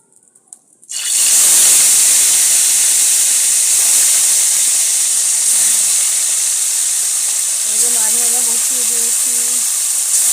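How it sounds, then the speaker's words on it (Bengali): Bata fish dropped into hot oil in a wok, a loud steady hiss of sizzling oil that starts abruptly and continues throughout, with a faint voice near the end. "বাটা মাছের রেসিপির জন্য এই যে মাছ ভাজা হবে এখন দিয়ে দিচ্ছি তেল কড়াই"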